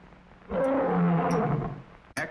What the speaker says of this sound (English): L stands for the African lion. Did you ever hear a lion roar?